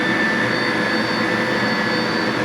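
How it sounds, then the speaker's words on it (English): An exhaust fan runs during a sublimation vinyl T-shirt press, a steady loud whooshing drone with a faint high whine, continuous and unchanging with no talking. "I'm going to turn the exhaust fan on."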